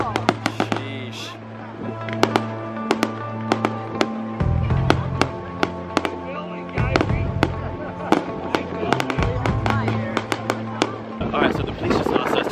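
Fireworks tipped over on a barge exploding in a rapid irregular barrage of sharp cracks and booms, some near and loud, over a rumbling background, with people talking throughout.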